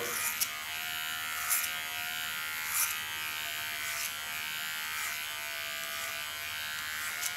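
A Peony hair clipper with ceramic blades trims the sides of a short haircut. Its steady electric buzz runs continuously and close, broken by a few faint clicks as it passes against the comb.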